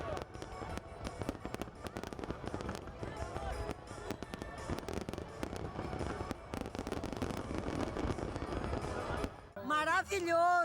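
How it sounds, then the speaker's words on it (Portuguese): New Year fireworks show fired from ten barges, a dense, continuous barrage of booms and crackling bursts filling the air, with crowd noise and voices beneath and a cheering, whistling crowd at the very end. "O tradicional espetáculo de Ano Novo começou iluminado e colorido, com 15 toneladas de fogos de artifício."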